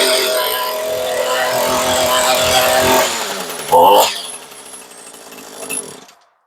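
Echo SRM 225 string trimmer two-stroke engine held wide open after a fault repair, a loud steady high-pitched buzz for about three seconds before it drops off and sputters down, with brief uneven bursts as it winds down.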